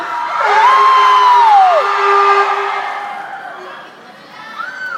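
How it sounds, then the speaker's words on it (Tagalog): A live show audience in Honolulu cheers loudly, with whoops, yells and crowd noise swelling together and then easing off slightly over a few seconds. "Sabi mo, magpalakpakan may kasamang hiyaw lahat na naniniwalang maganda si Vice Ganda."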